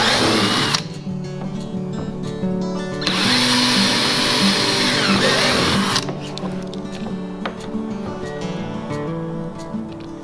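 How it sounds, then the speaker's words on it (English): A power drill whirs loudly in two long bursts, close by, drilling mounting holes for kayak outriggers, with a quieter rattling motor hum between and after them; no one speaks. "now I'm going to drill my other three points."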